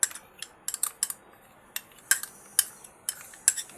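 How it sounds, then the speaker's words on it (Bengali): A spoon clinks sharply against a bowl as sour yogurt is mixed into soaked semolina and flour, with a run of quick, irregular taps and scrapes close by and no talking. "এবার এর সঙ্গে আমি টক দই মিশিয়ে নেব।"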